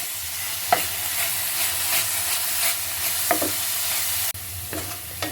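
Fenugreek leaves frying in ghee in a pan give a steady close sizzle, with a utensil scraping and stirring through them at intervals and no talk.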